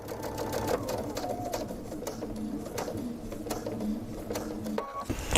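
A sewing machine fitted with an Ultra T foot runs steadily as it stitches binding up to a folded edge, its needle beating a rapid mechanical rhythm close by, with faint bird-like chirps in the background.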